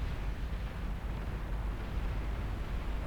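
Bases blowing up in a chain explosion in the strategy game Beyond All Reason: a continuous, loud, rumbling roar of overlapping blasts, heavy in the low end and sustained throughout with no distinct gaps or talk.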